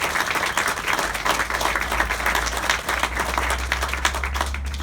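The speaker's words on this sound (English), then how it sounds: "I want a big round of applause for them because this couldn't be possible." Continuous crowd applause, loud and even throughout with a steady low hum beneath the clapping.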